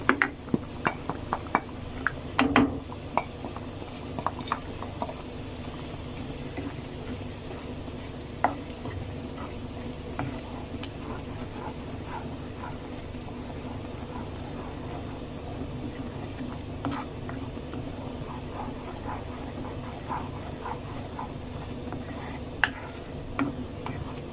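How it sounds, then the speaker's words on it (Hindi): Masala of ground spices with turmeric, cumin powder and crushed dried fenugreek leaves frying in a pan for raw banana kofta curry, a steady close sizzle with occasional spoon scrapes and clinks, no talking. "अब इसे ढक के मसाले को भूनना है, क्योंकि मसाला उड़ेगा बहुत"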